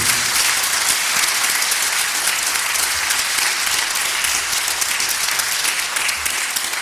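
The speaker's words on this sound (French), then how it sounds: "je vous remercie de bien vouloir saluer par vos applaudissements" Steady, dense applause from a crowd at a political rally in Illiers-Combray, sustained and even throughout with no pauses or voices standing out.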